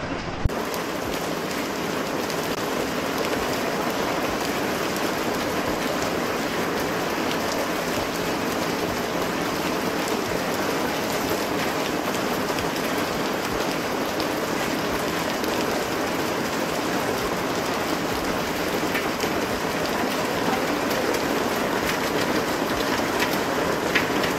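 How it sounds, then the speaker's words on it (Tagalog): Heavy rain pours steadily in Lisbon, a dense, even hiss of water drumming on surfaces that holds loud and unbroken throughout, with no voices over it. "Ang lakas ng ulan."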